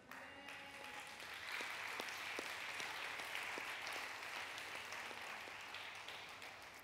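A church congregation applauds steadily for several seconds, a dense, even wash of many hands clapping at moderate volume with no voices over it.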